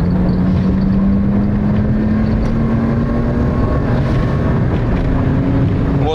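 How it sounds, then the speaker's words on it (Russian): A car with a 2.5-litre naturally aspirated engine accelerates from 60 km/h at full throttle, its engine drone rising steadily in pitch throughout, loud and close with heavy wind and road noise. "Вот, мы едем 60, ставим в пол."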